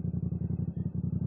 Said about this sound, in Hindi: तो यहाँ पे बाइक पार्क करके